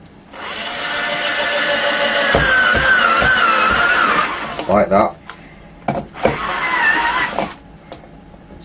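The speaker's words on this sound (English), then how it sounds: "I'm going to drill" A power drill bores holes into an audio mixing console's monitor input panel, a sustained whining drone that rises and then stops, followed by short bursts of drilling and clunks, with a voice speaking briefly.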